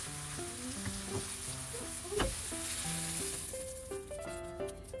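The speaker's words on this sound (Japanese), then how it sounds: "フライパンでバターを入れて玉ねぎ、これを強火で炒めていきます" Onions sizzle in butter in a frying pan over high heat, a steady crackling hiss running throughout beneath light background music, with a brief louder spit of sizzling near the middle.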